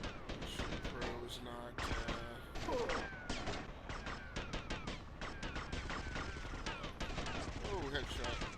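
Rapid bursts of gunfire in Grand Theft Auto Vice City during a shootout with Diaz's men, dense cracking shots nearly nonstop, loud and close, with a voice briefly speaking over them.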